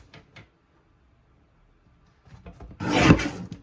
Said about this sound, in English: We're going to trim this at 8 1/4 and 4.